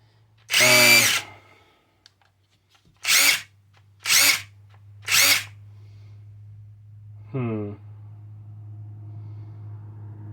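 A cordless seesii 1/2-inch right-angle impact wrench fires off four loud, separate bursts, one long then three short, each ending abruptly, followed by a softer fifth burst over a low steady hum, with nothing else in between.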